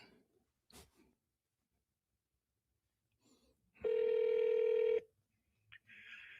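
A single loud electronic telephone ring lasting about a second, preceded and followed by faint handling noises and a brief tone.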